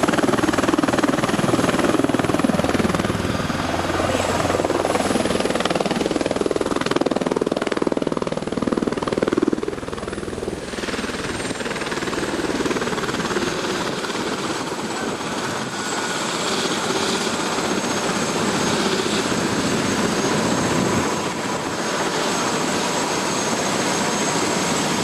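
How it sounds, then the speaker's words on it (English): A tour helicopter in Hawaii roars steadily, its heavy rotor and engine noise loud and continuous throughout, with a slight drop in intensity partway through. "We're going on our helicopter."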